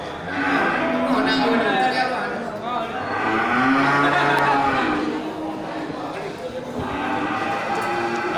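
Aceh cattle, bulls and breeding cows at a livestock sale, give a few drawn-out moos at close range over a busy background while someone talks.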